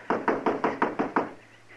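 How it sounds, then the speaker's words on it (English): Seven sharp knocks on a wooden door in an old-time Western radio drama, fairly quick and evenly spaced, close and clear with no voices over them. "Go ahead and knock."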